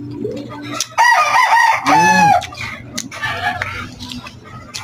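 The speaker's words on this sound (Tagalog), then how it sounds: "May tutuluga akong manok dyan. Kasi may nagalagang manok dyan sa aming kapitbahay." A neighbour's rooster crows loudly and close by, several harsh drawn-out calls with clucking between them.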